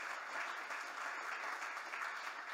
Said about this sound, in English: round of applause for creating the Youth Service Corps in Hartford